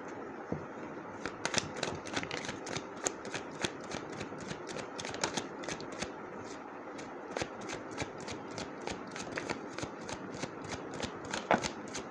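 Tarot cards being shuffled in a quiet room, with a fast steady run of crisp riffling snaps and flutters close by for the whole stretch.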